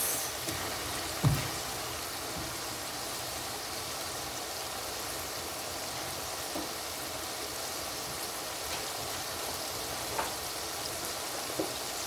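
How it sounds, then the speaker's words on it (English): Chopped onions frying with meat in a pan, a steady low sizzle holding throughout with a few faint clicks and knocks of stirring, close by and without talk. "so we have the onions and the other meat is cooking, and we're going to stir it"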